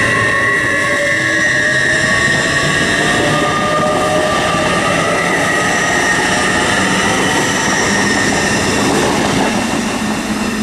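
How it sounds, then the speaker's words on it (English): An LNER passenger train departing for London King's Cross rolls loudly past at close range at Stevenage on the East Coast Main Line, wheels rumbling and rising metallic whines sweeping upward as it pulls away, no voices. "The 1208 LNER service to London King's Cross from Leeds."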